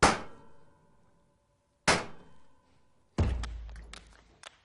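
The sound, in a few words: egg being cracked into a bowl of wet ingredients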